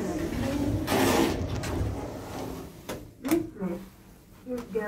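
Lift doors at the M&S store in Romford slide open with a whooshing mechanical rumble, followed by a few soft clunks and knocks, while a voice speaks nearby.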